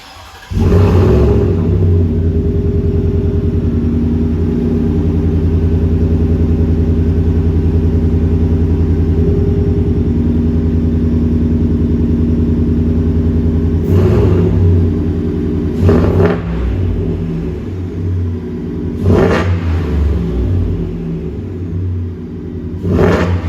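A supercharged 2023 Ford F-150 Saleen Sportruck Black Label pickup engine idles with a deep, rumbling drone, then revs sharply several times in quick blips, loud and close.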